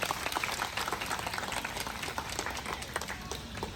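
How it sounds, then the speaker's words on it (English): Audience applause at the Creatures of the Night show at Singapore Night Safari, honoring the trainer and an animal: dense, steady clapping from a crowd, fairly close and filling the whole stretch without voices. "Let's give a round of applause to Oscar and our strong trainer, Liana"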